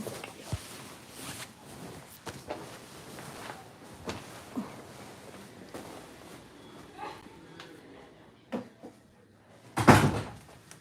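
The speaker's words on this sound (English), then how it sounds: "Let me close this goddamn door." A door being pushed shut in a hospital, a sharp clunk late in the stretch after scattered knocks, rustles and footsteps, with someone talking throughout.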